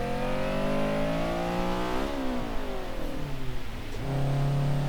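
Car engine in the Forza Horizon 3 racing game, floored from low speed, droning loudly and climbing in pitch through the revs with two gear changes, steady and alone.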